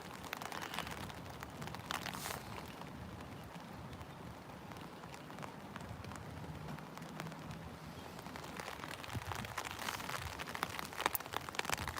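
Moderate cold rain falls steadily outdoors, a continuous dense patter of drops on surfaces with a few slightly louder crinkly taps standing out near the end.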